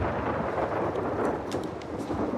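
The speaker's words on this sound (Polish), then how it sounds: "A burza w dalszym ciągu daje się we znaki." Steady rumbling storm noise with rain-like hiss from a thunderstorm in the video game The Last of Us Part II, a dense continuous wash with no distinct thunderclap standing out.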